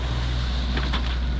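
A sailboat motors under engine power on the open Pacific with little wind, giving a steady low droning hum close by, with no talk.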